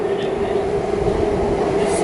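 Refurbished Alstom suburban train in Melbourne passing close by: a loud steady rumble with a sustained mid tone across the whole moment.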